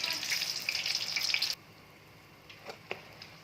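Meat-filled samosas frying in hot oil sizzle loudly and crackle for a moment, then the sound cuts off abruptly, leaving a few faint clicks and drips.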